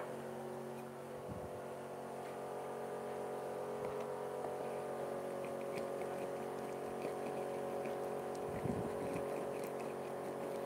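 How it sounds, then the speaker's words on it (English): An air compressor in a woodworking shop hums steadily and continuously with a tonal motor drone, with a few faint knocks and clatters from work nearby and no speech. "Oh, there goes my compressor!"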